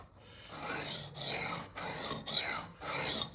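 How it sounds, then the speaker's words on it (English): A scissor blade is drawn across a diamond sharpening stone in slow, repeated strokes, each a close, gritty rasp separated by short pauses, with no voices. "I'm going to sharpen this on this diamond stone just like I would a chisel"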